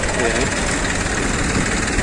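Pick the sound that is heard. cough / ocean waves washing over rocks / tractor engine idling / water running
tractor engine idling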